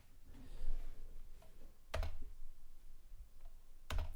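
A computer keyboard key is pressed twice, two distinct close clicks about two seconds apart over faint background hiss, with no speech.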